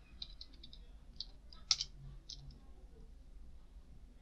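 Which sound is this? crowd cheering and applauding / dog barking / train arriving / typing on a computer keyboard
typing on a computer keyboard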